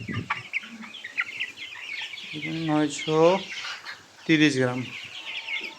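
Color Bird broiler chickens cluck in a farm shed during weighing, with short harsh calls and a couple of drawn-out squawks standing out between bursts of nearby talk.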